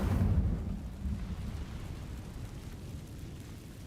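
A fire spell, Incendio, cast in the Hogwarts Legacy video game, heard as a low rumbling whoosh that swells at the start and then fades into a soft crackling roar.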